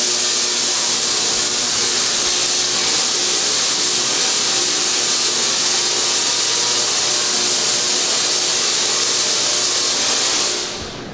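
A Tesla coil at Griffith Observatory discharges in one continuous loud buzzing hiss lasting about ten seconds before cutting off abruptly.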